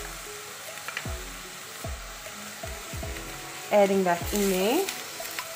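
Chopped chilies hit hot oil in a pan and sizzle steadily, with a few sharp utensil knocks against the pan and a short burst of louder stirring and scraping near the end; a voice speaks briefly over it.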